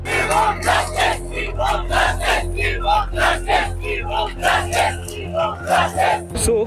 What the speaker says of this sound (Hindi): आज के दिन तो काफी भीड़ है।